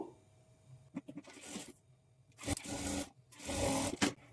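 A sewing machine stitches a blouse lining piece along the edge with a half-inch margin, running in three short whirring bursts separated by brief pauses and light fabric handling.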